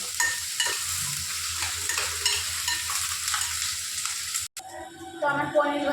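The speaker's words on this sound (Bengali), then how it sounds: "পেঁয়াজটা আমি নাড়াচাড়া করে নিচ্ছি।" Onions stirred and fried until crisp for a vegetable biryani, a steady close sizzle with spatula scrapes, broken by a brief cut near the end before the frying resumes.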